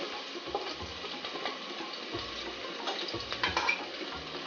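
Whole spices, green chillies and chopped onion sizzle in hot oil in a pan, a steady close crackle with irregular pops and scraping stirs, no talking.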